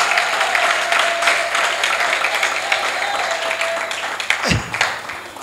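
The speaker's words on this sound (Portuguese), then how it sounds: "Será que pode aplaudir forte para Jesus?" A church congregation applauds loudly and steadily for several seconds, a dense wash of clapping filling the room, with a brief electronic feedback or hum sweep near the end.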